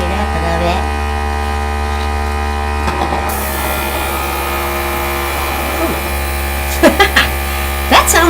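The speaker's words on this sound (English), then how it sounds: "That sound was the vibration of my ink." Alcohol ink vibrating on Yupo paper under an air gun makes a loud continuous buzzing hum that shifts slightly in tone, with a few brief voice sounds near the end.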